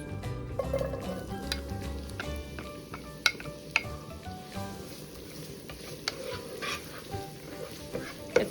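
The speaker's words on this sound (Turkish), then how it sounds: "soğanlarımızı kızgın yağda birkaç dakika çeviriyoruz" Onions sizzling steadily in hot oil, a dense crackling fry with a few sharp pops and light clinks, no voices.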